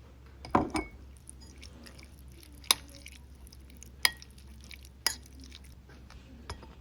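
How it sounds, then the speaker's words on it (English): Cooked prawns stirred with light mayonnaise in a bowl for a low-carb egg and prawn salad: soft, wet squishing with a few sharp clicks of a utensil against the dish, quiet and close, with no talking. "Take 90 grams of cooked prawns and add 30 grams of light mayonnaise. And then just mix them well together."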